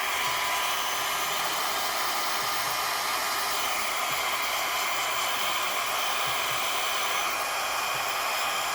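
A hair dryer runs steadily and close by, drying art materials quickly, with an even, loud broadband whoosh throughout and no talking.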